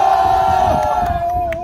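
A large crowd at an outdoor protest rally in Chilgok, South Korea roars and shouts together, loud and sustained, with a steady tone sounding over the din.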